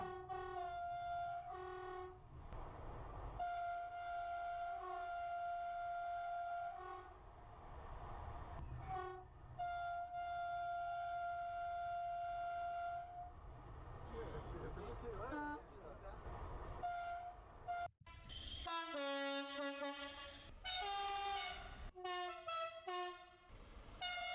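A string of loud train horn blasts, some long and steady, others short toots, sounding one after another with brief pauses and rumble between them.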